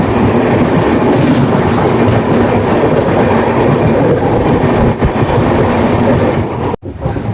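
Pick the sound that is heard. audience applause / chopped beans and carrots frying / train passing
train passing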